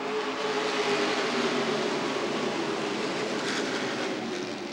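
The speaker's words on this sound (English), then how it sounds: "Into the throttle comes Benzik, and we are racing at the mile." Stock car engines roar at the Milwaukee Mile oval during a Mid-American Stock Cars race, a dense, continuous rumbling drone that stays steady and loud from start to finish, with no voices.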